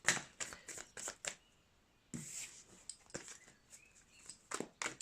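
Tarot cards being shuffled by hand, a quiet series of quick riffling and flicking bursts with a brief pause, close and soft in a quiet room.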